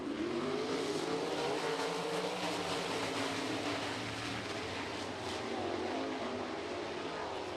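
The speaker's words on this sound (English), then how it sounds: "8 times around, final heat race of the MSTS sprint cars going green." Several 360 sprint cars roar around the I-90 Speedway dirt oval during an MSTS heat race, a continuous loud engine drone with rising and falling revs that fills the whole stretch.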